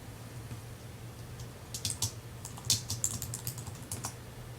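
Typing on a computer keyboard: a brisk run of close, crisp key clicks starting about halfway through, over a steady low background hum, with no voice.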